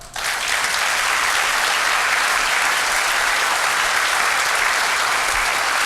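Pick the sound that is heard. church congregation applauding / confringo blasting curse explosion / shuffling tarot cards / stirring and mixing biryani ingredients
church congregation applauding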